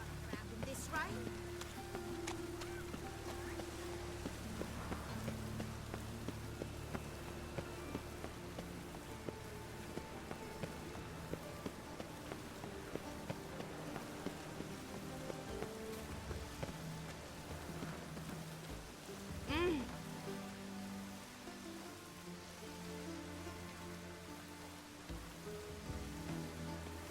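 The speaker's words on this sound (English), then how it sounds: "Must be mad running around in this rain." Steady rain falls in the open world of The Witcher 3: Wild Hunt, a constant soft patter laid under game voices and faint background music for the whole stretch.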